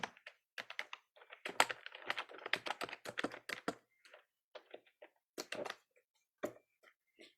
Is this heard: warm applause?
no